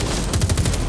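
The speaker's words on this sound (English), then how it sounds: "Okay, so my gun, I can aim and shoot." Rapid gunfire in a VR video game, a quick burst of several sharp, loud shots in under a second with no talking.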